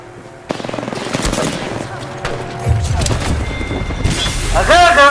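Automatic gunfire in a multiplayer shooter match, loud sustained bursts of rapid shots with heavier booms mixed in, running under excited voices talking throughout.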